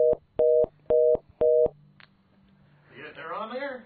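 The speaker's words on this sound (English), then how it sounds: "Oh, we got a phone call." Four evenly spaced telephone ring tones on a call-in radio show, loud and close, followed by a short pause and then people talking.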